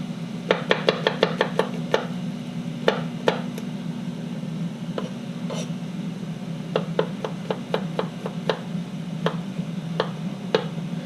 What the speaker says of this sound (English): just a rough chop on the garlic